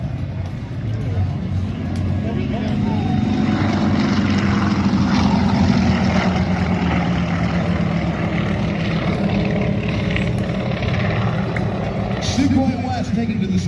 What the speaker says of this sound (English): Iconic J3 Cub, the most iconic light aircraft out there.